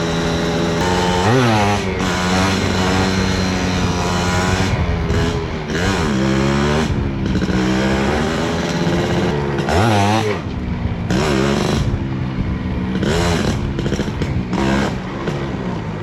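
A Suzuki motorcycle ridden and wheelied along a wet track by palm trees and a river, its engine revving loud and close, pitch climbing and dropping repeatedly with brief throttle cuts.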